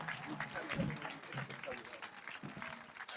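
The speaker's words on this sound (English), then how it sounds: "Well, the applause should be louder" Audience applause at a public event where President Mahama donates items to bus stop boys, a steady, dense wash of clapping with cheering crowd voices mixed through it.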